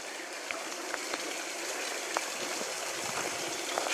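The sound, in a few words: water trickling down a rock face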